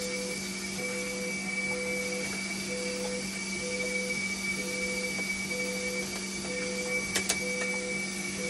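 A part of a dialysis machine turning during calibration gives a steady mechanical hum with tonal whine and a regular pulsing beat throughout, close and continuous, with a brief click near the end.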